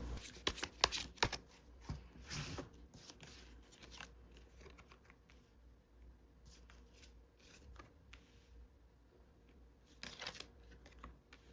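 Tarot cards shuffled and drawn by hand, with quick crisp flicks and rustling snaps in clustered bursts near the start and again toward the end, separated by quieter stretches of soft handling and no talking.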